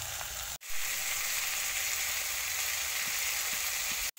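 Rohu fish pieces with long-cut ginger fry steadily in a pan, a close, dense sizzle that runs continuously with two brief dropouts and no voices.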